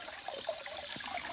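Water drains out of a crab hole during crab hunting, a faint, irregular trickling and gurgling with small splashes and bubbling close by, with no voices.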